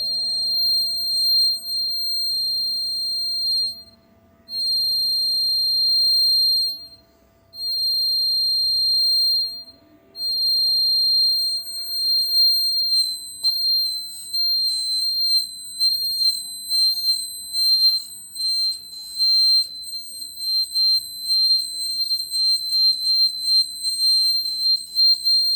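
A school science-competition water tank overflow alarm model, its electronic buzzer sounding once water bridges two wires: a steady high-pitched whine broken by short gaps, then giving way to fainter clattering handling noise.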